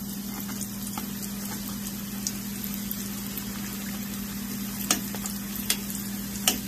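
Plantain and dumplings fry in a pan of hot oil, giving a steady close sizzle and crackle with a low constant hum beneath and a few sharper pops and spits toward the end.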